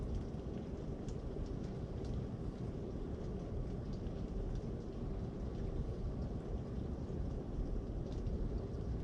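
Steady, heavy rain pours during a severe thunderstorm in Minot, North Dakota, a dense, even hiss with low rumbling underneath that continues without a break.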